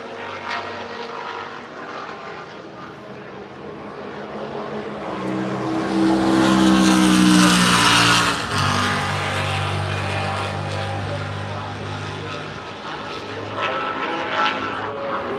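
Race cars, a Dodge Viper among them, in a historic series at the Rolex 24 at Daytona: loud, continuous engine roar that swells as cars pass close around the middle, then drops in pitch and carries on at a steady distance.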